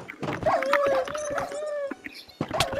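Angry dogs boss in a video game, heard as a sustained whining howl with yelps and snarling bursts, loud and close over busy game noise, with a few brief gaps.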